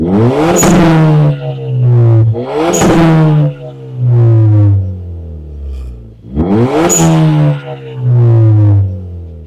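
A Suzuki Swift Sport ZC33S engine revving up repeatedly, pitch climbing through the gears in several surges with brief pauses, loud and close, no talking.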